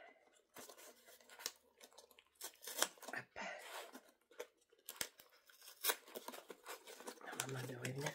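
Candle packaging being torn and crinkled open, a string of rustling, ripping and crackling bursts close by, with a person talking over it at times.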